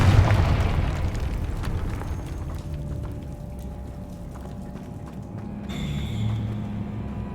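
A Confringo fire spell goes off in Hogwarts Legacy as a loud, close boom at the start, fading into a low rumbling tail and game ambience with no talking.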